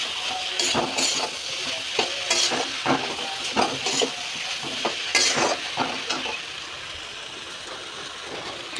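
Cabbage sautéed a little at a time in a pan, with a steady frying sizzle broken by repeated scraping stirs and clinks through the whole stretch, close and moderately loud, no voices.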